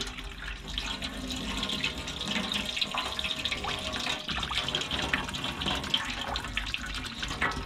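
Hot water runs steadily from a tap into a sink in a 2015 Auto Trail Tracker FB motorhome, a continuous close splashing rush with no voices.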